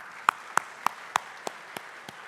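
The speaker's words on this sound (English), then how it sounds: "One more round of applause for Paul and Roy, please." Applause from a conference audience, heard as a sparse run of about seven distinct, evenly spaced claps, fairly close and fading toward the end over a quiet room.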